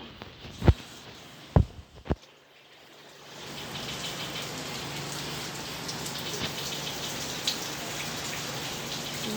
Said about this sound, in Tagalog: Ito grabe yung ulan guys.